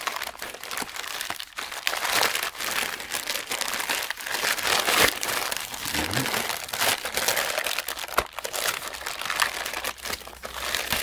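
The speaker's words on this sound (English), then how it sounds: "all you'll be hearing right now is a lot of rustling" Crinkling and crackling of gift packaging wrap being handled and torn up close, continuous rustles with occasional louder crunches.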